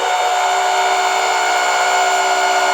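A power drill runs steadily at full speed while working on a big-block Ford 460 engine in a home garage. The drill is overheating and starting to smoke. Its loud, constant whine carries through the whole clip with no talking.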